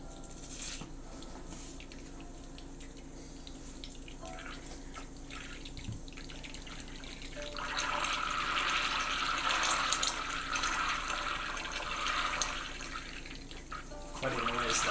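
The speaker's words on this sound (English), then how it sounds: "That's all the water coming out." Water runs from a kitchen tap, a continuous hiss and splash that grows noticeably louder and fuller about halfway through, then eases off near the end.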